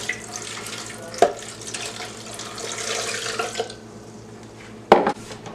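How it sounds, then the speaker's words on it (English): A kitchen tap runs water into a pot for Spanish rice, a steady close hiss and splash that cuts off near the end, followed by a sharp clunk. "And then I'm going to add in the water."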